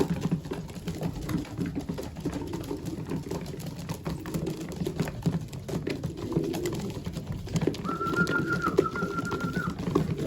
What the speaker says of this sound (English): Probably my smallest pigeon.